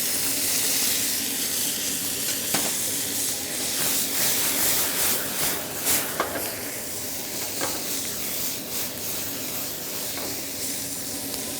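Diced tomatoes sizzling with onions in a hotel kitchen pan for bhindi do pyaza, a steady hissing fry with several distinct stirring scrapes spaced a few seconds apart, close and fairly even.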